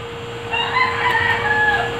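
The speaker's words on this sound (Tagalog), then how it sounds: "tumitilaok na yung manok." A rooster crows in the early morning, one long, loud, drawn-out call that rises and holds for over a second, fairly close, over a steady electrical hum.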